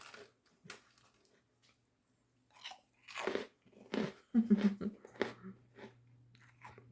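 Close, loud crunching and chewing of egg white crisps in several bursts, with quiet pauses between bites and a faint low hum underneath.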